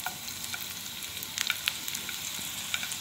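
Garlic frying in a pan until golden gives a steady close sizzle and crackle, with a few sharp pops and light stirring scrapes, and no talk.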